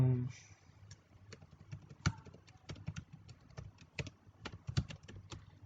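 Someone types a login ID on a computer keyboard, with irregular, close key taps and a few sharper clacks over a quiet room.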